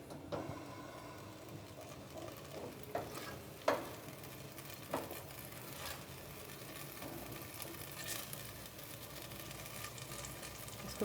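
Crushed garlic and tomato puree frying in a pan, a steady low sizzle and bubbling hiss throughout, with a few soft spoon knocks and scrapes standing out now and then.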